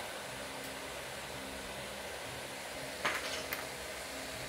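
A hair dryer blows steadily at a hair salon, a constant close whooshing airflow with a few brief clattering knocks near the end and no talking.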